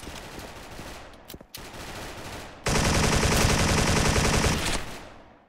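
In-game G3A3 battle rifle fire in Special Force: a broken opening volley, then from about 2.7 s a dense, loud sustained burst of rapid automatic shots that fades out near the end.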